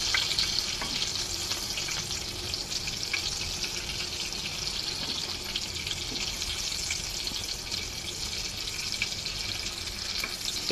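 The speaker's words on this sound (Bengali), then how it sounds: "ফ্রাই প্যানে দিয়ে খুব ভালো করে ভেজে নিয়েছি" Balls coated in egg and breadcrumbs fry in a pan with a steady, dense crackling sizzle that continues evenly without any talking.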